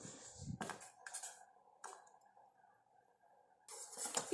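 Homemade hair dye is stirred in a pot on the stove, giving a few close metallic scrapes and clinks of a spoon against the pot, separated by quiet gaps.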